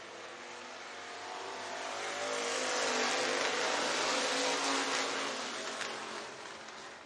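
Engines roar as race cars speed past on a dirt track at Kossuth County Speedway, Algona, Iowa, swelling to a broad, loud rush in the middle and fading slightly, heard from trackside with no talking.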